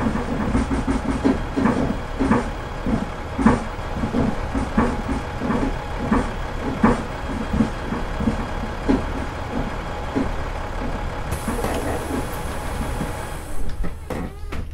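Voith Trident Euro 2 bus in a bus simulator game, its engine a loud, steady drone with repeated throbbing surges and rattles running throughout, close and dominant with no talk.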